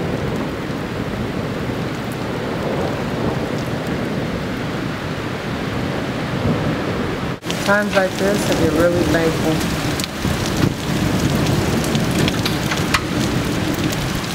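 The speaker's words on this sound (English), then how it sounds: "There's like constant thunder." Heavy rain falls steadily outside a Korean school during a summer storm, a loud continuous hiss with a crack and rumble of thunder partway through, and a person speaks over it.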